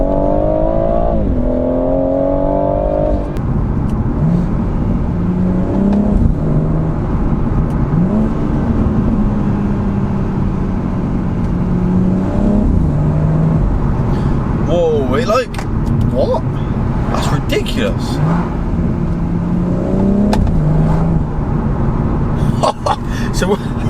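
BMW M140i on a stage 3 gearbox map, engine rising in pitch through quick gear changes with pitch drops between shifts, heard from inside the car under steady talking.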